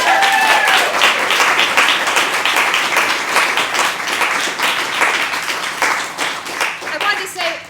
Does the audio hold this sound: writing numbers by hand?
no